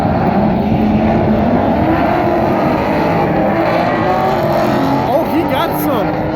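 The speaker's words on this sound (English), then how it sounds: "It's a Corvette versus a Mustang, right?" A Corvette and a Mustang race past with loud, roaring engines and passing whooshes, while people talk excitedly over the noise.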